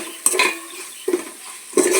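Onions frying together with a ground coriander and poppy seed paste, with a few sharp stirring and scraping bursts of a spoon against the pan over a low, steady background sizzle.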